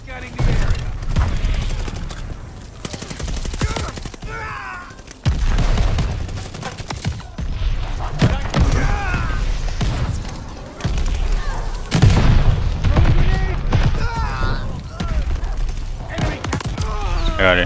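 Dense shotgun blasts in Call of Duty Vanguard multiplayer, loud and repeated in quick bursts through the whole stretch with brief lulls, mixed with other weapon fire and game effects, while a player talks over the action.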